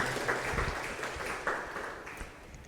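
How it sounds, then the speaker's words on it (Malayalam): A church congregation at a retreat claps hands in thanks, a soft, fairly distant patter of applause that fades gradually, with no talk. "കൈയടിച്ച് കർത്താവിന് നന്ദി പറയാം."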